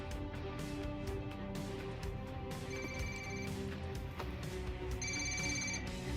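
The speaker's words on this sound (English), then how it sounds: "You're going to want to answer your phone, Officer Bowman." A telephone rings in Ghost Recon Wildlands, repeated electronic ring bursts over a steady game soundscape with low rumble, fairly quiet and without talk.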